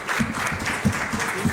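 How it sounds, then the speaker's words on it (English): Audience applause at an AI impact event, steady clapping from a crowd with a few louder bursts, continuous and fairly close, with no talking over it. "big round of applause for the organizing team"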